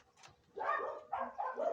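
A dog shut indoors barks on a hot day, a few muffled, mid-distance yaps and bow-wows in quick succession after a quiet start, with no one speaking.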